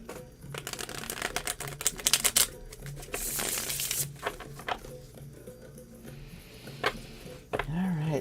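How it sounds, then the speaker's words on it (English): Someone shuffles a tarot card deck, producing soft papery riffling and patting bursts, faint and close, with a voice speaking quietly between them. "This is the easiest shuffling deck ever, ever, ever."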